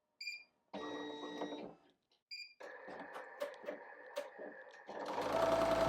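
An embroidery machine stitches a tree trunk design onto a shirt with a steady, close mechanical rattle that pauses briefly, restarts, and runs on with small beeps and whirring near the end.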